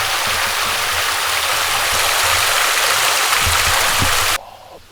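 Water rushes freely through a narrow channel once a small clump of blocking debris is cleared: a loud, steady, close broadband splash and gurgle that cuts off sharply in the final half-second.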